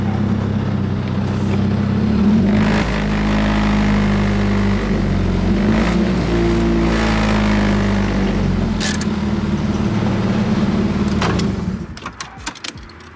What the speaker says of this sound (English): it sounds terrible and it feels not the best because of the two exhaust it has.